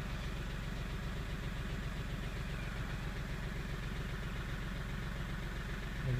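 A car engine idles with an intermittent camshaft position sensor no-signal fault, giving a steady, even low rumble close by that holds throughout with no voices.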